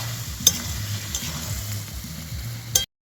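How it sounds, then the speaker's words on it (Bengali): Mutton cooks in a pan at an outdoor New Year picnic, with a steady close sizzle and a couple of sharp scraping clicks from stirring before the sound stops abruptly. "এখন আমি মাটনটা রান্না করছি"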